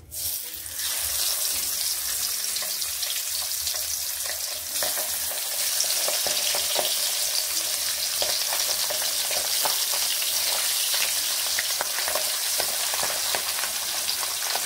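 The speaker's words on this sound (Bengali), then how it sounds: "তেল একটু বেশি গরম করে নিয়েই আমি মাছগুলোকে ছাড়ছি।" Pabda fish fry in very hot oil with a loud, continuous sizzle full of sharp crackles and pops, unbroken throughout with no talking.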